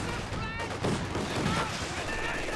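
Gunfire and a grenade blast in Company of Heroes 2, a dense continuous battle din of crackling shots and bursts at steady loudness with no clear pauses.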